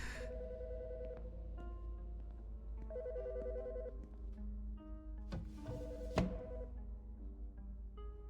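A phone in the Autopsy Simulator horror game rings in repeated electronic trills over a low steady hum, with a brief thud partway through.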